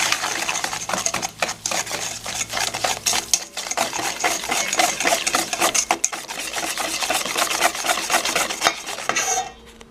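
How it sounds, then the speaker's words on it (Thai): A whisk rasps and clicks rapidly against a bowl as sugar is beaten into eggs for cereal cookie batter, a steady scraping rhythm close up. "แล้วก็ตีเข้ากับไข่นะคะ"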